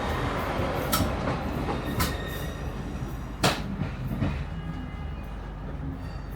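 A Northern train running on rails toward Manchester Airport, heard from on board as a steady rumble with periodic sharp clicks and knocks from the wheels passing rail joints.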